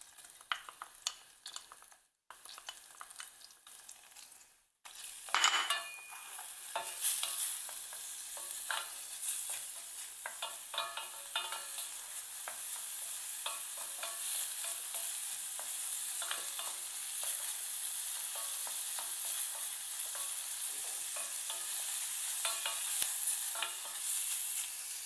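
Finely chopped onions sauté in a little butter in a pan, a steady close sizzle with frequent scraping stirs, after a few clattering knocks as they go in.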